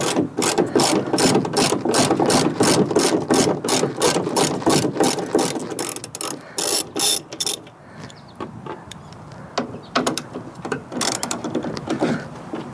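A ratchet wrench removes two 8mm tail light bolts on a Ford F-150 pickup, rapid loud clicking bursts close up, pausing briefly before a second, sparser run of clicks.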